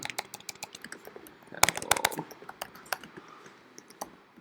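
Rapid, close clicking of keys as code is typed on a computer keyboard, an irregular stream of taps with a few louder strokes, no voices.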